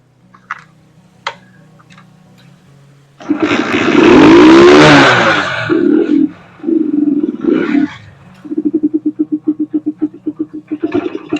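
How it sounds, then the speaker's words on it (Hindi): Motorbike kick-started after some faint clicks: the engine catches with a loud roar, revs and dips a few times, then settles into a steady rapid idle putter close by. "तो हिप रिप्लेसमेंट के बाद ऐसे ही बाइक का किक मारते हैं।"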